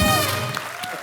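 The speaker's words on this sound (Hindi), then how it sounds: "जोरदार तालियां हिमेश सर के लिए" Loud studio audience applause for Himesh on a TV comedy show, a brief thick burst of clapping heard partly under a voice and music tones.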